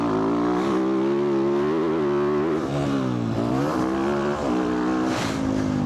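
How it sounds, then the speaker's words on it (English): Dirt bike engine on a track, revving up and down in wavering, buzzy pitch sweeps, loud and close throughout with no talk. "We're just having a good time on our dirt bike."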